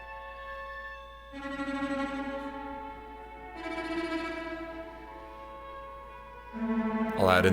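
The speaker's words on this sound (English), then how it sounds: "Then the left I have the very distant, spacey violin." In a song production, a distant, spacey violin layer plays soft sustained tones that swell in and fade in long phrases, faint and airy, with a sharper attack at the very end.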